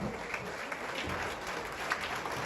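Applause from a crowd at a rally meeting, a steady broad wash of clapping sustained evenly through the moment with no voices over it.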